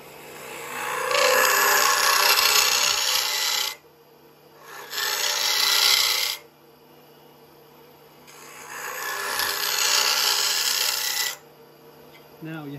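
A wooden toy being hollowed on a wood lathe, the cutting tool rasping against the spinning wood in three long bursts separated by short pauses, with a steady motor hum underneath.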